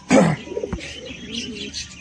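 A pair of pigeons perch close by, and a soft, low cooing rises and falls against faint background noise. A brief louder sound opens the clip.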